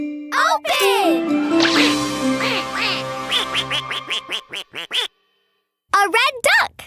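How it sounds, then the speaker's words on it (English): A red cartoon duck hatching from an egg quacks in a run of bright, bouncy calls with musical tones under them, loud and close, ending in quick staccato quacks after a short silence. "A red duck!"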